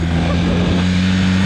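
A 1982 Honda CM450 motorcycle engine running after its first start in seven years, a loud, steady idle with a strong low hum throughout, very close and continuous.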